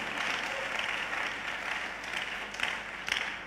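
A church congregation claps together in a dense, sustained burst of applause lasting a few seconds, a little distant and fairly even, with a couple of sharper claps near the end.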